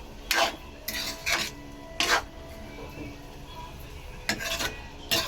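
Chicken in oil is stirred in a pan with a spatula, making about six rough, close scraping strokes in uneven bursts over a low, quiet background.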